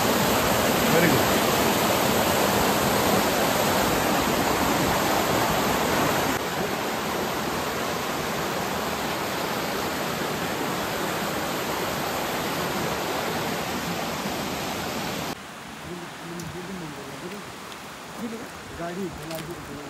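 Steady rushing water of a stream on a Sahyadri mountain trek, loud broadband flow close by, dropping to a softer, thinner trickle near the end.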